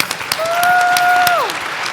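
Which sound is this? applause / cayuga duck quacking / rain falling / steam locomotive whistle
applause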